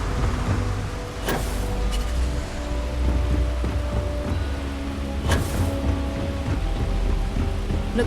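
Thunderstorm over Neon, a lightning-powered city in the video game Starfield: steady heavy rain with two sharp thunder cracks rolling out, one early and one near the end, no talking.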